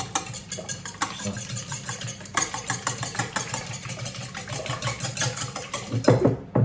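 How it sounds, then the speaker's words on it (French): Eggs being beaten for a quiche in a large bowl, fast regular whisking with rapid clicks and taps against the bowl, close and steady, ending in a louder knock, with no talk. "donc là je vais battre mes œufs"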